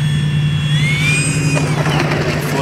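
Freewing F-22 radio-controlled jet's electric ducted-fan engine spooling up as power is brought back in during a dusk flight at an RC club field, a steady loud whine with rising tonal pitch, close and continuous.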